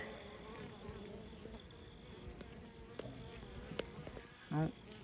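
Honey bees fly in and out of a backyard hive, their wings making a steady, fairly faint buzz that carries through the clip, with a few brief knocks and a short louder burst near the end.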